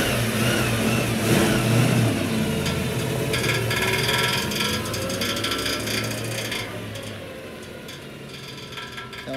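A 1966 Ford Mustang V8, running again after 23 years and still smoking, drives off down the street with a steady mechanical engine drone and a rattling, fan-like clatter that slowly fades as it pulls away.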